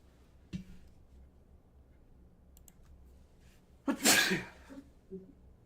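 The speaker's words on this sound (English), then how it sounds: "I have to sneeze." A single loud sneeze bursts out near the end, preceded by a sharp intake and scattered clicks in an otherwise quiet room.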